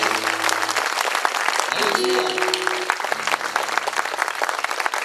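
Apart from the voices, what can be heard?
congregation applause in church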